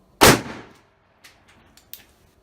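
A Pietta Model 1858 Army blackpowder revolver fires a single sharp, loud shot outdoors, followed by a decaying tail and a few faint clicks and clanks.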